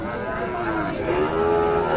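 Cattle mooing at a livestock market where crossbred bull calves are sold, a drawn-out low moo rising over steady crowd and animal noise, fairly close and continuous.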